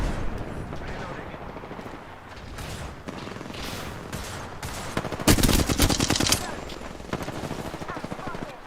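Rapid video game gunfire crackles in bursts, with a loud close volley in the middle, layered over a busy battle soundscape and a player's voice calling out.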